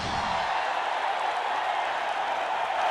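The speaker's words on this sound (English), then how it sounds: "Oh, listen to that crowd, Juanita!" Arena crowd in the Ratchet Deadlocked game cheering loudly and continuously, a dense steady roar of many voices with no single speaker standing out.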